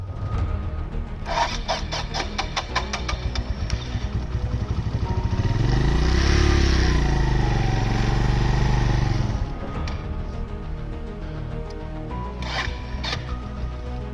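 A motorcycle on a mountain ride near Minapin in Nagar, Pakistan, is cranked repeatedly with a fast rattling turnover, and a rising whirring surge comes midway before the cranking resumes, close by and with no talk.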